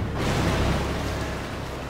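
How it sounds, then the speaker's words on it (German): A Fendt tractor engine in Farming Simulator 22 gives a loud, dense, low rumble that holds steady and close throughout, with no speech over it. "Naja, holen wir mal den Traktor."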